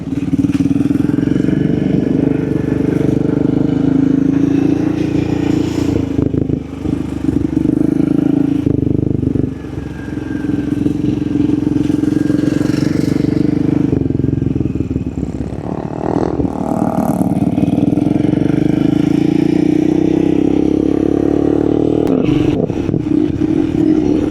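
Slide school motorbike ridden around a dirt track at an off-road park: a loud, continuous engine drone with rising and falling throttle, gravel scrape and clatter, heard up close throughout.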